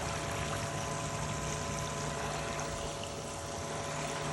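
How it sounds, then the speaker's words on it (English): An Aquastrong 2/3 HP sand filter pump running steadily with a constant hum, water rushing and splashing out in a dense, even stream, close and unbroken. "So now I'm gonna take it to filter and let's see what she does. All right, got water coming out the sprinkler,"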